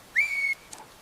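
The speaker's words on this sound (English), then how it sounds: "You two call and whistle. 1 long, 2 short." A single sustained whistle tone, clear and fairly loud, holding steady for under half a second, followed by a faint brief chirp, part of a one-long, two-short whistle signal.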